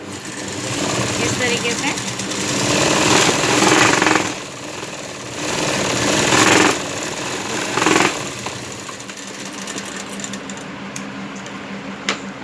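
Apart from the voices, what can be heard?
sewing machine stitching blouse lining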